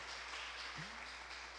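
A church congregation at a family worship service claps in a brief, steady wash of sound over a low hum, with no talking over it.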